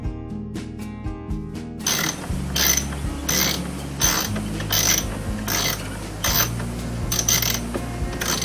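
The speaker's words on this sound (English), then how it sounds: "The next step is to remove two 20 torque screws that's securing the factory radio trim panel." Close ratchet clicking while removing Torx 20 screws from the factory radio trim panel of a Ford Transit: a quick run of fine clicks, then a steady series of evenly spaced crisp ratcheting strokes.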